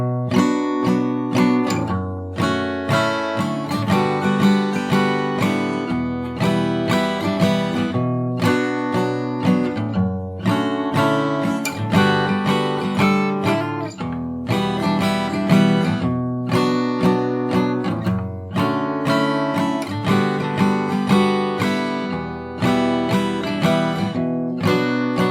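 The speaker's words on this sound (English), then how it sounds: "So if I play the entire chorus once from the start," Solo guitar plays the chorus of a song from Cyberpunk 2077, a steady run of strummed and picked chords with a continuous rhythmic pulse, close and clear with no talking.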